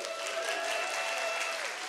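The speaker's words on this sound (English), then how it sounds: "would you give a round of applause?" A church congregation applauds during a Bethel Church service, steady clapping from many hands at moderate level, with sustained musical tones from a keyboard or worship band underneath.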